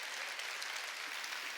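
A church congregation at a Sunday worship service applauds steadily, a dense, even wash of clapping from many hands filling the room throughout, with no talking.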